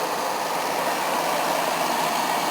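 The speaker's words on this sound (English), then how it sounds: "The compressor isn't all that loud either." Copeland compressor in a 1969 Westinghouse air conditioner running, a steady close, even hum and broadband whir with no talk.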